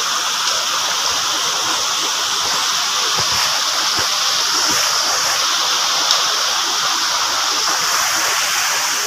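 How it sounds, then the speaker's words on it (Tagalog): Waterfall at Lambingan Falls, a steady, loud rush of falling water filling the scene without a break, with no voices over it. "Lambingan Falls, first time ni Inday sa Lambingan Falls."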